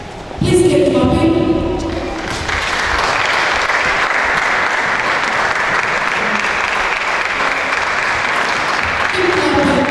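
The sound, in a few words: audience clapping at opening ceremony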